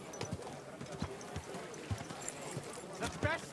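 Horse hooves clip-clop at a steady walking rhythm in the medieval game Kingdom Come Deliverance 2, soft and muted, with people talking over them.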